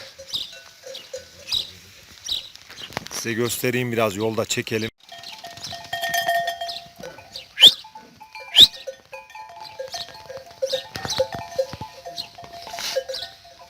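Sheep bleat as they are let out in a village during light sleet, a few short calls close by, mixed with footsteps and scattered noises while someone talks.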